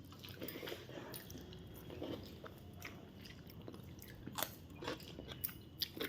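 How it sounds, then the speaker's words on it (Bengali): Wet chewing while eating fish curry with long potato pieces, soft squishy mouth sounds repeating close up with occasional small clicks and drips, no talking. "চলো আমিও খাচ্ছি, আর মেয়েকেও খাওয়াচ্ছি, দুজনে মিলেই খাচ্ছি।"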